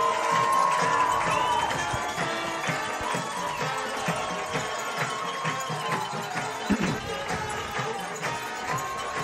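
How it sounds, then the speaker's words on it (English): A crowd cheers and shouts at a high school varsity football game as the home team takes the field, a steady, loud wash of voices with scattered whoops and a few sharp taps throughout. "Crowd is excited tonight."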